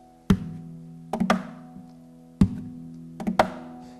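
Sharp percussive thunks and flicks struck on the body of a lap-style guitar in a loose repeating pattern, each hit followed by a short ringing tail.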